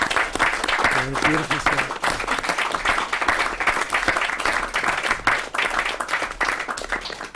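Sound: audience applause at an assembly

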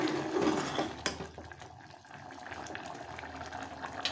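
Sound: bitter gourd kuzhambu curry boiling in a pot

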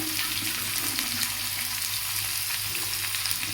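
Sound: potatoes sizzling while frying in oil

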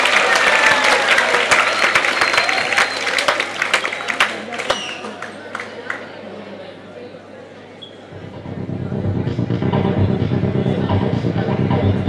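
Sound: audience applause to encourage a performer

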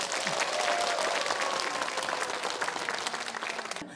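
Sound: audience applause for the students

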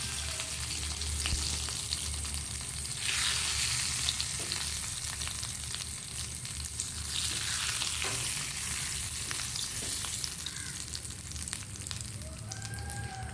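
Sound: prawns frying in oil

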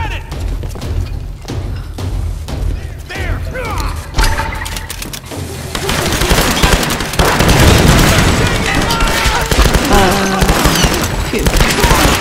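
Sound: shotgun firing in the video game Tomb Raider

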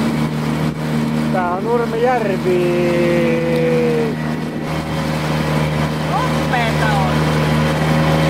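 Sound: motor engine running

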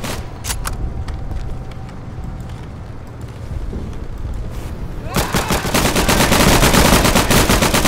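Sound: gunfire, from video game Day of Infamy

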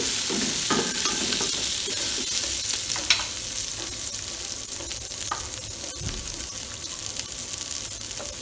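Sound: vegetables being stirred in a frying pot

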